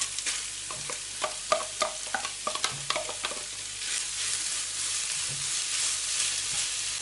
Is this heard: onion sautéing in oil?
yes